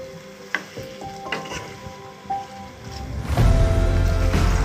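Mango pickle being stirred in a kadai, with scraping and clinks of the spoon against the pan at first, then a louder, steady sizzle of frying that builds toward the end; no voices.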